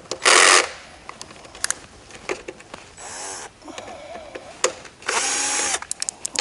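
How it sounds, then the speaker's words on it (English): Power screwdriver backing screws out of a conveyor frame in short, separate whirring bursts, loud and close, with light handling clicks and scrapes between runs. "I take off these two screws."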